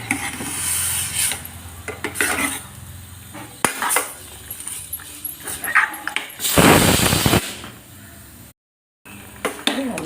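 Mutton being stirred into a tomato and onion paste in a pan, with close scraping, rubbing and clinking of a utensil against the pan in uneven bursts, one longer loud scrape near the end.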